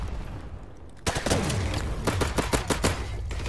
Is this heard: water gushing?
no